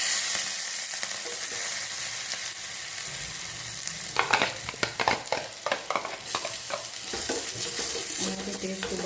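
Onion fries in oil with mustard seeds and urad dal, a constant sizzle overlaid midway by a busy run of stirring scrapes and clatters against the pan.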